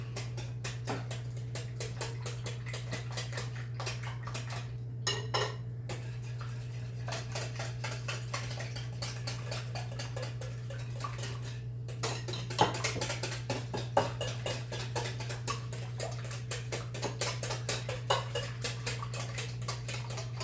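A utensil scrapes and clinks against a mixing bowl as cinnamon and nutmeg are stirred into a bread pudding mixture, making quick, faint taps and scratches over a steady low hum, with no voices.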